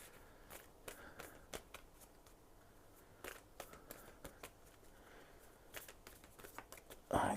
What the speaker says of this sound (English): giving these a good old shuffle now